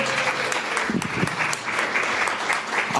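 A church congregation applauding at a spiritual living service, a steady dense patter of clapping hands lasting the whole stretch, fairly close and even, with faint voices mixed underneath.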